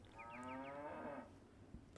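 Cattle lowing in an Age of Empires match, one long, loud, drawn-out moo with a rising, wavering pitch lasting over a second, set against a soft in-game ambient bed.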